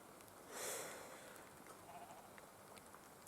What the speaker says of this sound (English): If you ever come along this road, there's free roaming goats.